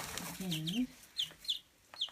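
Small high chirps from baby chicks being handled indoors, several short peeps spaced across the moment, with a low voice-like murmur near the start.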